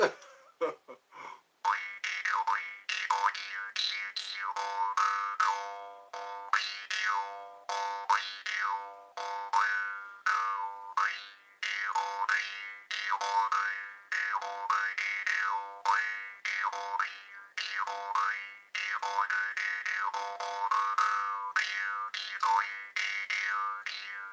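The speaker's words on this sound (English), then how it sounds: "people like the jaw harp. It's a mystery instrument." A jaw harp twangs in a steady rhythmic pattern, its vowel-like resonance sweeping up and down with each pluck, close and alone without any talking.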